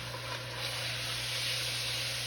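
Pot roast sears and browns in a hot pot, giving a steady, close sizzling hiss that holds evenly with no pauses.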